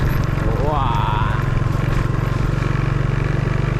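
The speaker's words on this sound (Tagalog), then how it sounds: "So gamit ating motor Honda XRM 125." Honda XRM 125 motorcycle engine droning steadily up close during an off-road trail ride, loud and continuous with a voice briefly heard over it.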